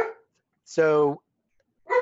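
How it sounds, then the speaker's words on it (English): A single bark from the speaker's pet dog, loud and close, lasting about half a second and falling between short bits of talk. "And that's my dog."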